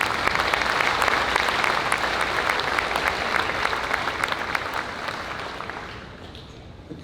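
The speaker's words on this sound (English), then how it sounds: "So please give them a round of applause." A crowd at the Missouri State Fair Sale of Champions claps in a steady round of applause that tapers off gradually toward the end.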